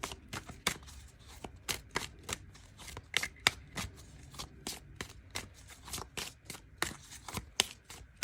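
Tarot cards being shuffled by hand in a steady series of crisp riffling slaps and flutters, close and fairly quiet, with no voice over it.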